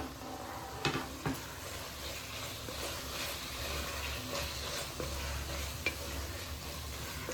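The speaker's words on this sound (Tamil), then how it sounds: "இதை வதக்கிட்டு புதினா கொத்தமல்லி வதங்கின உடனே காஷ்மீர் மிளகாத்தூள் போட்டுடலாம்." Mint and coriander leaves sauté in oil for mutton biryani, giving a steady close sizzle and frying hiss with occasional sharp clicks of a stirring spoon against the pot.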